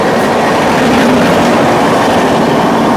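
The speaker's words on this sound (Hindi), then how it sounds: "हमारी ट्रेन ने ब्रेक लगा दिया दोस्तों" Odisha Sampark Kranti passenger train braking at speed, heard as a loud, continuous rumbling roar of wheels on rails with a steady grinding hum and no pauses.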